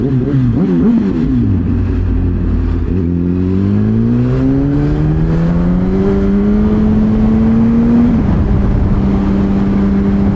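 Cars with loud exhausts whine and rise in pitch as they drift past at a JDM car meet, a loud continuous drone with shifting tones and no talking.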